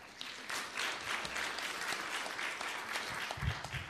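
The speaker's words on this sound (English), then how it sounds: "I would like everyone to give a quick round of applause to the school board trustees and educators" Applause from a school board meeting audience honoring trustees and educators: dense, sustained clapping from a sizable crowd in a hall, fairly distant and even, lasting the full stretch without voices.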